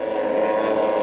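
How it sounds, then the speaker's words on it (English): Classic outboard hydroplane racing boats on a demo racecourse give off a loud, continuous engine drone in a brief, steady burst. "the demo racecourse was filled with the sights and sounds of classic outboard hydroplanes"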